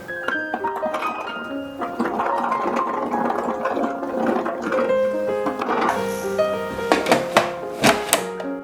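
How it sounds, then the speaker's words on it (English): A food processor grinds unripe grapes for verjuice, giving a busy, rattling whir with irregular knocks and clatter that grow sharper toward the end, close by and without talk. "Put them in a food processor or juice extractor."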